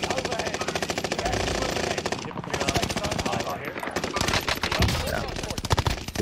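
Continuous rapid automatic gunfire in a shooter video game, loud and close, rattling nearly the whole time with a short gap in the middle, then more bursts and scattered shots.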